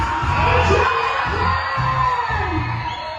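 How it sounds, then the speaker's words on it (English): A crowd at a Dua Lipa tribute act's afternoon show whoops, cheers and yells loudly in a sustained burst. Shouted voices ring out over the noise of the crowd, with little distinct clapping. "give it a massive round of applause for joining me this afternoon"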